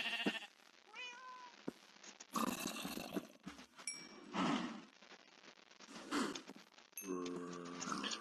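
Cows from the More Mob Variants mod for Minecraft moo in a video game, giving several drawn-out, tonal calls that overlap with other mob noises and are heard fairly close and clear.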